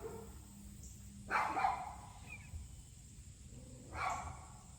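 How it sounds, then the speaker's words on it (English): Dogs bark in the distance, two short, faint bursts a few seconds apart against a quiet indoor background. "if these dogs keep barking"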